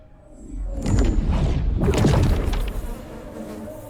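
Film sound effect of many mosquitoes swarming, a whining insect buzz that swells in after a soft start and stays loud and dense, with a low thud underneath near the middle.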